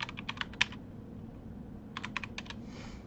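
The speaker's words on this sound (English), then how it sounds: "To get rid of Lolbit, you just type lol, right?" Quick bursts of keystrokes on a computer keyboard while playing Ultimate Custom Night, two short clusters of clacking taps with a quiet pause between them, close and fairly soft, with no talking.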